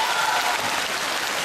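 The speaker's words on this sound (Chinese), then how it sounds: "为你们鼓鼓掌好吗？谢谢你们。" An indoor audience at a fan meeting in Shanghai claps loudly and continuously, a dense, even wash of applause filling the whole moment.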